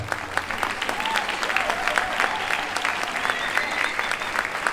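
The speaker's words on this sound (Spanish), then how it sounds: "O primeiro, un forte aplauso para A Movida" Lively applause from a crowd at a public event in Vigo, individual claps standing out sharply within the steady clatter, with faint voices murmuring underneath.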